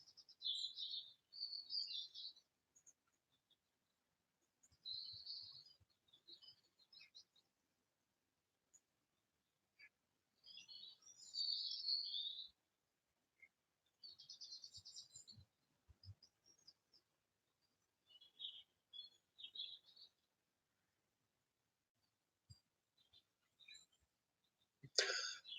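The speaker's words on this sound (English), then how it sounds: "I don't know how well you can hear them, but the birds woke up." Early-morning birds sing in scattered bursts of high chirps and tweets, faint and somewhat distant, separated by near-silent gaps.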